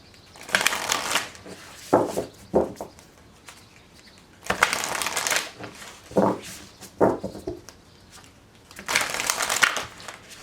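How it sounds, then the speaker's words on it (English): Tarot cards are shuffled in several loud, crisp bursts separated by pauses, the riffling texture clear and close with almost no talk. "One more shuffle."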